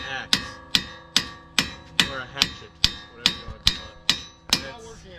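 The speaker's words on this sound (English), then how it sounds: "So we couldn't get this bolt out with a hammer, so we're using an axe." An axe strikes a stuck bolt on a Mustang S550 during a spring install, landing about eleven sharp metallic blows at a steady pace with ringing decay between them. The blows are loud and close, with no talking.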